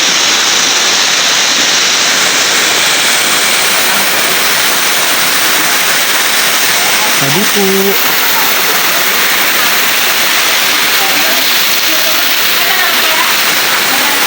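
Water rushing steadily at Malinao Falls, a waterfall in Upper Sta. Cruz, Ragay, with a broad continuous roar close by and a brief voice partway through.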